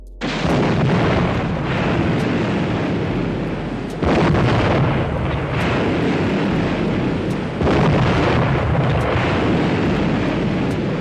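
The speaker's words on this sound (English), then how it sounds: "The explosions that shook the sea." Heavy, continuous booming blasts of large explosions at sea roll together into a deep roaring rumble, loud and sustained, with fresh surges of force arriving every few seconds.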